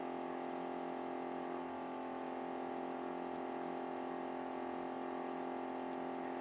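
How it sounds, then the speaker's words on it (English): A pump hums steadily as it flushes a reverse osmosis system at an off-grid maple sugarbush, producing a faint, even whir with a constant tone and no voices. "So the pump is flushing."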